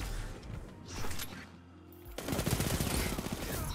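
SMG fire in a Destiny 2 PvP match: a short burst, then a lull, then rapid sustained gunfire with mechanical clatter, moderately loud.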